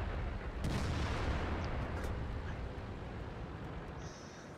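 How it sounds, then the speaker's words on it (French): Artillery fire in a tank video game, with a loud low rumbling blast and a heavy sustained roar that slowly fades over several seconds, no talk heard. "Tir d'artillerie, bah, voilà, c'est la vie."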